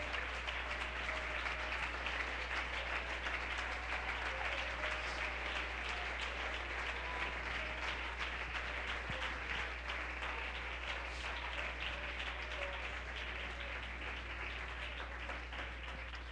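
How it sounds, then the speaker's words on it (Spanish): A church congregation applauds in praise during a sermon, a long, sustained wash of many hands clapping at a steady level, fading slightly toward the end. "Dele ese aplauso al Señor."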